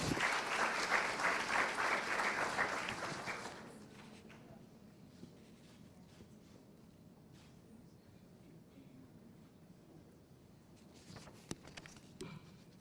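Ceremony audience applauding at a solemn electoral tribunal event in the Dominican Republic, a dense burst of clapping lasting about four seconds before dropping off to quiet room noise with scattered faint bumps.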